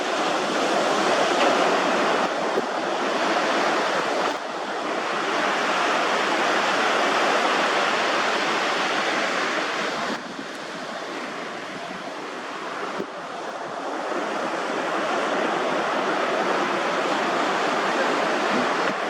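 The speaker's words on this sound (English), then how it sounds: "See how the wave broke that up?" Ocean surf breaking on a beach in cold January air, a steady loud wash of waves with surges and brief dips, no voices.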